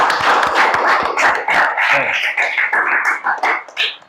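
Children in an Indonesian Islamic religious education class clap for a classmate, a burst of close, rapid claps mixed with young voices calling out, fading toward the end.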